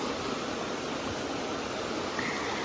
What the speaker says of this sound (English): We found this beautiful swimming hole and waterfall